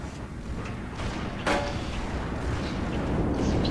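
Sniper rifle shots in a video game on the Zanzibar map: a sharp loud crack near 1.5 seconds rising over a dense, steady rumble of game noise.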